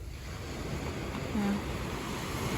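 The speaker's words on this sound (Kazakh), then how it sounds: "Мына жерге дейін өтіп жатыр волналар." Ocean surf on a beach in Kribi, Cameroon, a faint continuous wash of breaking waves at high tide, soft and distant-sounding with some wind noise.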